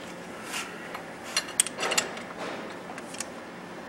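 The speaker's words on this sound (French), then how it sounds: "Le boulon du bas est maintenant bien serré, ainsi que le deuxième boulon." Tightening the lower strut mount bolt on a 2002 Dodge Neon during a strut assembly install: faint ratcheting clicks and metallic creaks from a wrench, sparse and close, over quiet room noise.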